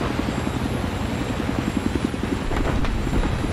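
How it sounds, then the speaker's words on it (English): A Battlefield 3 scout helicopter drones past with a steady rhythmic rotor chop over a loud engine whine, holding close and constant throughout. "I'm pretty mad about how fucking slow the scout helicopters are."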